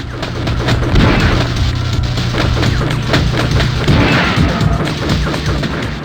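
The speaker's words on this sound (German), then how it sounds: "man kann übrigens tatsächlich alles kaputt schießen" Gunfire and smashing debris from the 1995 video game Crusader: No Remorse: dense, loud crashes and booms of objects being shot apart, continuous and close.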